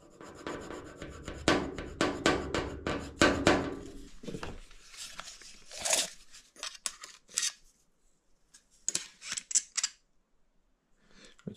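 Copper tube being cut for a brass fitting and valve installation, close crunching and scraping cuts in a dense run, then sparser clicks and scrapes separated by quiet gaps.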